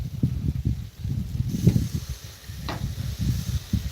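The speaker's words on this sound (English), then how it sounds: "Nice sizzle going on there." Chicken sizzles and crackles on a hot barbecue grill, a steady moderate hiss with soft popping bursts throughout.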